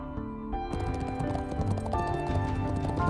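Rapid clip-clop of horses' hooves as guards ride through the land, a steady galloping patter under swelling orchestral music with no talking.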